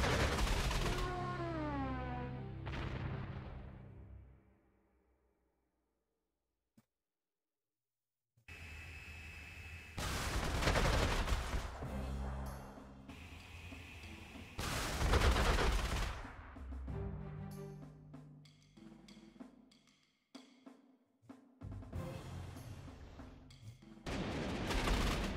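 Gunfire and explosive impacts from the wartime strategy game Panzer Corps 2, heard in loud dense bursts, with a tonal sweep at the start, a quiet gap, and then repeated heavy volleys.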